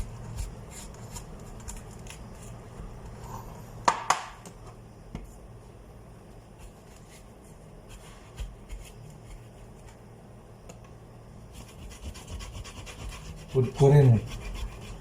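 Soft, steady rasping as the bitter white pith is scraped off a vegetable in a home kitchen, faint and continuous, with someone talking over it and a louder scrape near the end.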